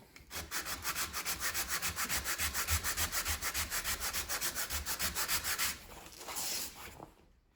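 Rapid rhythmic rasping of sandpaper on a wooden guitar headstock scarf joint, steady back-and-forth strokes close up for several seconds, then slowing to a few final rubs.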